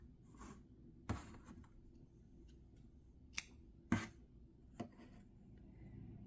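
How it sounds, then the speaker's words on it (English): Scissors snip through yarn during crocheting: a few sharp, quiet cuts spaced apart against a soft, near-silent background. "here I will cut off the yarn"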